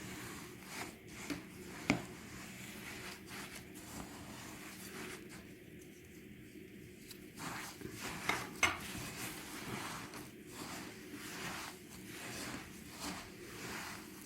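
Spoon stirring a thick no-bake cake mixture in a bowl, with soft scraping clinks and a few sharper taps against the dish, quiet and close, no talking.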